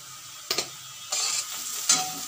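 Chopped onion fries in oil in a wok for a noodle lasagna, a steady soft sizzle broken by a few scraping stirs of the spatula, close and alone with no voices.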